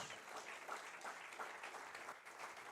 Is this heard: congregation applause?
yes